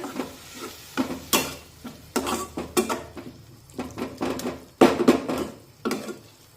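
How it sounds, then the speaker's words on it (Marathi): Water poured into a kadhai and stirred into coconut paste, with repeated loud scraping and stirring strokes, light sizzling and the clink of a spoon against the metal pan, close up. "आता हे पाणी या कढईमध्ये टाकूया मिक्स करून घेऊया"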